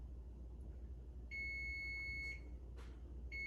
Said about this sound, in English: You'll hear the timer go off in 7, 6, 5, 4, 3, 2, 1.